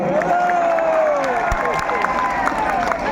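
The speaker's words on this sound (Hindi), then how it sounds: "जोरदार ताली हो जाऊ" Loud crowd applause and cheering at a Durga Puja committee comedy event in Pattamundai, steady dense clapping that fills the whole stretch.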